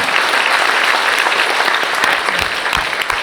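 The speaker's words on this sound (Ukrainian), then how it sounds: "всіх, хто в цій, в цій залі знаходиться аплодисментами подякувати воїнам" Dense, steady applause from an audience filling a hall at a European strategy gathering, loud and continuous throughout with no speech over it.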